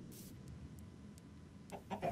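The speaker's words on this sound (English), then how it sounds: "Why is there a chicken?" A Minecraft chicken clucks faintly near the end, a couple of short clucks after a quiet stretch with a few soft clicks and a low background rumble.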